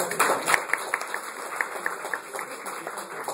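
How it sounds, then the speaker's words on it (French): Light applause rises from a small crowd at an Android user group meetup, sparse individual claps that come through fairly close and quiet, with a high electronic whine running under them. "Applaudissements"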